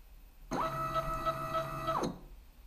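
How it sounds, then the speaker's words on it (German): A CNC milling machine with X and Y limit switches homing to its zero point gives a steady whining motor drone for about a second and a half, close and clear, starting and stopping abruptly, with no speech. "jetzt lassen wir die CNC mal ihren Nullpunkt finden."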